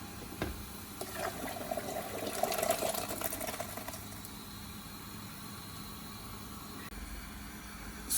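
Separately cooked spices poured into a big pot of Indian restaurant-style base gravy, a faint sloshing pour of liquid over steady background hiss, fading into a quieter hum.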